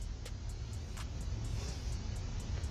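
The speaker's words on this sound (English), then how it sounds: "And there he is leaving in the Forerunner." A Toyota 4Runner SUV pulls away, heard as a low, steady engine rumble at moderate distance through a doorbell camera, with faint periodic ticking over the top.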